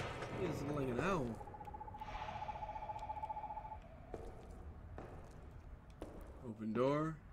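A wavering owl-like hoot rings out in the Perception video game, a steady pitched tone running for a few seconds in the middle, framed by someone talking before and after it.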